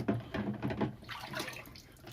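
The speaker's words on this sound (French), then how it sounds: "On va le rincer un coup, hop." Tap water runs briefly over an item being rinsed clean, a soft splashing flow that tapers off after a second or two.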